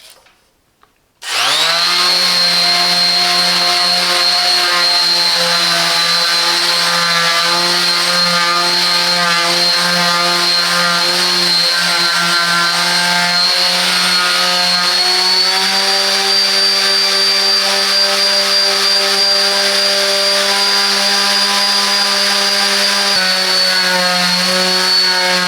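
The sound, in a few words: Parkside PPS 200 C2 power sander sanding wood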